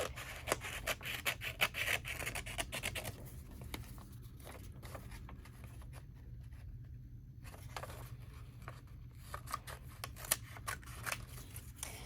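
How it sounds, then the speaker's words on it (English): Scissors snip straight down the middle of a sheet of paper during mixed-media art work, giving a run of close, quiet cutting and rubbing sounds in a calm room. "let's cut down the middle of this and see what we can come up with here"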